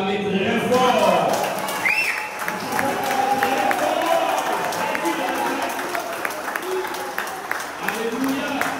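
A church congregation at a praise and worship service cheers and claps in acclamation, a dense, reverberant roar of crowd noise scattered with hand claps and voices.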